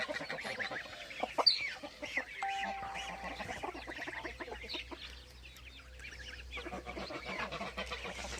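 Farm chickens and a rooster cluck and call in a village yard, with repeated short clucks and a sharp call near the start, while geese and ducks add occasional noises.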